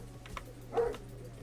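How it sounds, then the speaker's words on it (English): A dog lets out a single short, muffled bark partway through, fairly faint and somewhat distant, with light clicking from a computer keyboard around it. "Dog being noisy moment."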